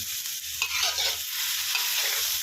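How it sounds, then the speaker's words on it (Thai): Mixed vegetables and chicken stir-fried dry in a pan give a steady, loud sizzle with scraping and stirring strokes throughout, close up and without any voices. "ผมผัดแบบแห้งๆนะครับ"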